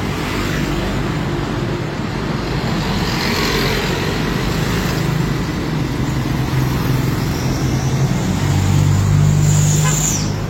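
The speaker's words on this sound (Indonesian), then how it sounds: "terlihat arus lalu lintas cukup ramai lancar" Busy road traffic flows along Jalan Sutomo in Pematang Siantar near SMA Negeri 4, a loud, continuous roar of passing cars and motorbikes with engines swelling as vehicles go by.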